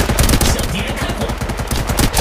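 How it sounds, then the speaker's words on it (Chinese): Rapid automatic gunfire in the mobile shooter Apex Legends Mobile, loud and dense, with bursts of shots rattling steadily for the whole stretch and no clear speech over it. "向敌人开火"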